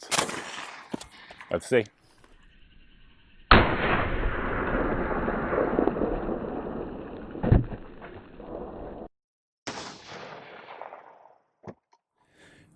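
Several loud, sharp gunshots from a 16-inch AK rifle firing 7.62x39 steel-jacketed full metal jacket rounds into body armor at 15 yards, spaced apart with a long echoing stretch between; a brief voice speaks at the start.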